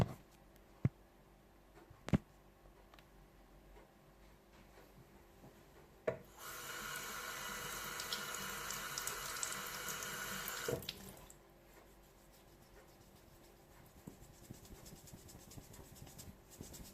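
Tap water runs steadily into a sink for about four seconds while eyebrow pencil and mascara are washed off, with a few knocks before and quiet handling after; no one speaks.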